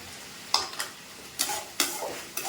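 Eggplant and potato frying in a pan, stirred in four quick scraping strokes spaced about half a second to a second apart over a quiet steady sizzle, close up and without speech.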